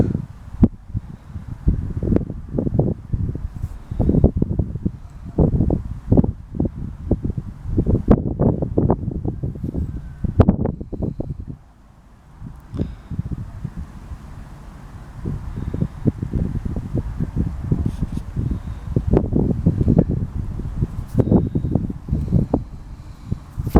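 Strong wind outdoors at dusk buffets the microphone in continuous gusty roars, loud and close, with rustling and occasional lulls between heavy blasts.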